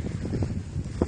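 Strong wind in the mountain resort of Bansko buffets the microphone in low, gusty rumbles that rise and fall over about a second, close and fairly loud.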